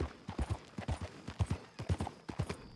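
Horse hooves clip-clopping in Red Dead Redemption 2, a steady, close rhythmic trot of soft thuds repeating evenly, fairly quiet and without talk over it.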